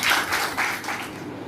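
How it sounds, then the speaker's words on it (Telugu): An audience at a Telugu gathering for young married couples claps together, a brief dense patter of hands that stays fairly steady and moderately loud throughout, with no voices over it. "అందరూ చప్పట్లు కొడుతూ"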